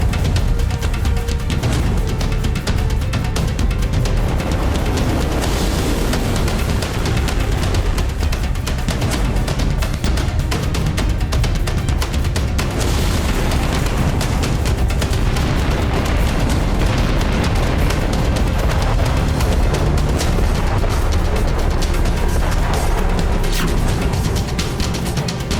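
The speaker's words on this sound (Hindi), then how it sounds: "ये चरण है विशाल सरमट मिसाइल का टेस्ट।" The giant Sarmat missile test launch is a continuous, loud, roaring rumble with a dense low-end thunder that holds steady throughout without letting up.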